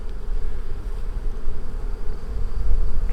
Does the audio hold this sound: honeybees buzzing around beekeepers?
yes